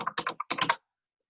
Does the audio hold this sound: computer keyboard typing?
yes